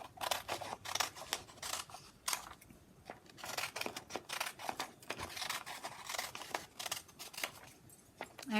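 Scissors cutting pieces of paper for a paper weave, with repeated close, crisp snips and crunchy slicing strokes in an irregular rhythm throughout.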